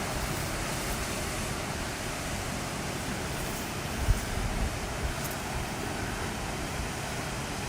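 Ocean surf rolling below a Sydney rock pool in the early morning, a steady broadband wash of waves with a slightly stronger surge near the middle, heard from above at a moderate distance with no voices.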